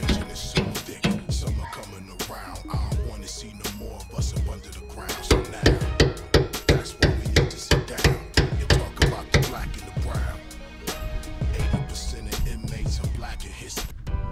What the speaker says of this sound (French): Je vais essayer avec un plus gros marteau.